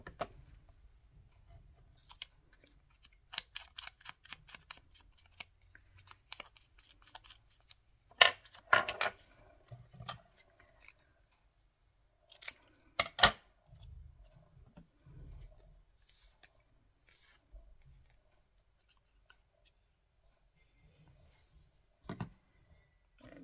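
Scissors cut out inked paper pieces, giving close, intermittent snips and rustles with quiet gaps between.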